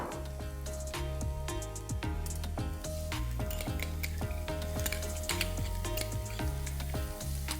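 Garlic paste frying in oil with onions in a pan over high flame gives a loud, continuous sizzle, with occasional clinks of a utensil against the pan.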